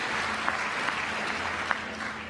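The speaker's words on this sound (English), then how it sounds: "At least applaud for her." Steady applause from an audience in the chamber of the United States Congress during an address, a dense continuous patter of clapping with a few sharper claps standing out.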